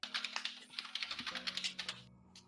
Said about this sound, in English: Your keyboard is really loud.